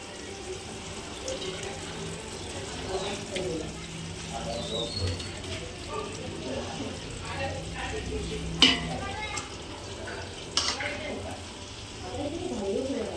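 Rice being tipped into a pot of biryani masala and stirred for a homemade dum biryani, giving steady scraping and stirring with a soft sizzle and a couple of sharp clinks, with someone talking in the background.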